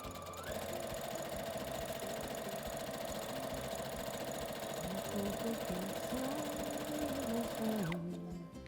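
Sewing machine stitching the layers of a quilt runs steadily and fairly loud for about eight seconds with a continuous motor whir and rapid needle chatter, then stops abruptly.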